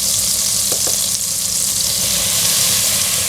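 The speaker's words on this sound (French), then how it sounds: "Donc je fais fondre mon beurre." Butter melting in a hot pan, a loud continuous sizzle and crackle heard close up, with a low rumble underneath and no talking.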